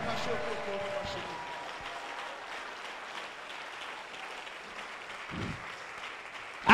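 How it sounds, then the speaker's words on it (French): A church congregation applauding and cheering to acclaim the Lord during a French-language service, a moderate, continuous patter of clapping under voices that swells briefly toward the end. "Acclame, acclame, acclame fortement le Seigneur"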